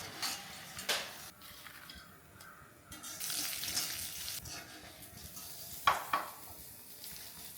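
Pappadam frying in hot oil for a Kerala home lunch, a steady soft sizzle with brief louder crackling bursts as pieces hit the oil and are turned, near and alone with no talk.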